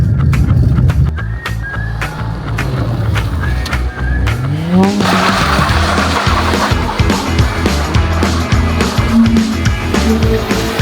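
Fiat Seicento pulls away in second gear, its engine rising from a strained low rumble into a revving climb with road and tyre noise, loud and close inside the car, with occasional knocks and rattles.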